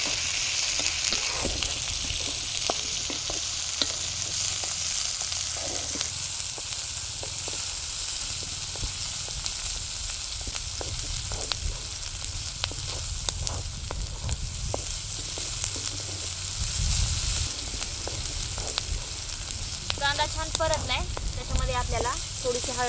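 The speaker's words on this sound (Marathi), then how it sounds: "कांदा टाकून आपल्याला सगळं असं परतून घ्यायचं" Onion and garlic fry in a pan for Maharashtrian baingan bharit, a soft continuous sizzle broken by scattered scraping stir strokes, with a brief brighter clatter near the end and no talk.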